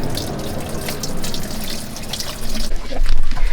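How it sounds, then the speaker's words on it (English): Water runs steadily and splashes while engine parts are washed, a close hissing wash that grows louder toward the end, with no talk. "uses water to clean engine parts"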